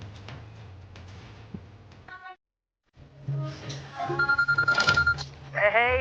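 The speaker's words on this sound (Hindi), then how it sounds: "सैम अगर मैं तेरा फोन काट रही हूँ तो बार बार क्यों फोन कर रहा है?" A phone rings in short repeated bursts of pulsing tones, coming back after a brief silence, mixed with people talking.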